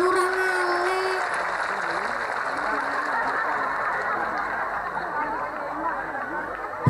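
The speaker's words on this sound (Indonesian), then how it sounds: "Tepuk tangan kanggo Lurah ngale." Applause for the village head at a lively Islamic sermon gathering in Ngale, Paron, Ngawi, a sustained crowd clapping mixed with cheering and chatter, steady throughout after a brief voice at the start.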